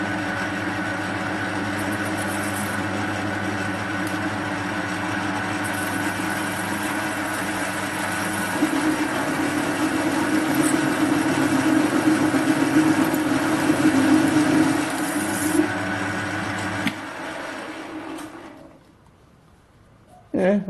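A metal lathe fitted with a cheap TCMT carbide insert turns an unidentified mystery metal at medium feed, giving a steady close machine hum and cutting drone with a rougher grinding stretch midway before it winds down near the end.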